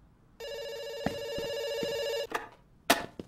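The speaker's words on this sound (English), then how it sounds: "It's ringing." A telephone rings in a video game, a steady electronic ring tone that holds for about two seconds and then cuts off, followed by a few brief clicks and thumps.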